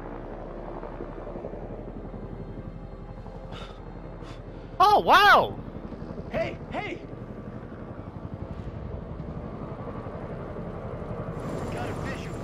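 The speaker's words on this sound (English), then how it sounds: "Oh, it's a helicopter! Must be a rescue helicopter." Rescue helicopter flying over the sea in the horror video game Man of Medan, a steady low rotor drone running throughout, with brief excited shouts and exclamations from a player rising over it partway through.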